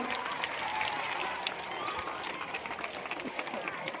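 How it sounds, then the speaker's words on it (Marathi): A crowd of parents and students applauds a teacher at a school parents' meeting in a village school, a dense, sustained clapping that stays steady and fairly close for the whole stretch, with faint crowd murmur underneath. "टाळ्या वाजवतात त्याच्यासाठी सगळ्यांना"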